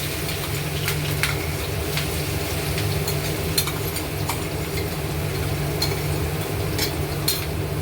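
Ground chili and garlic paste frying in hot oil for a dill leaf stir-fry: a steady, close sizzle with a low hum underneath and occasional light clicks of stirring.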